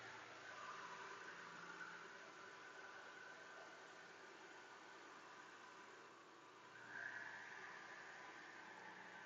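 Farm tractor engines run nearby as a steady, rumbling drone with broadband hiss, holding fairly level throughout and swelling slightly near the end.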